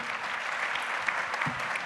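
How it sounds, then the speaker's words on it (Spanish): Steady applause from a panel audience on a talk about diversity, dense and continuous clapping filling the whole moment with no pauses or voices. "Un aplauso para Laura."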